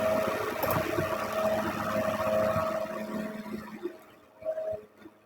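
A leaf blower whirs steadily outside an apartment, a continuous broadband drone heard from indoors at moderate distance, fading out toward the end with a few faint knocks.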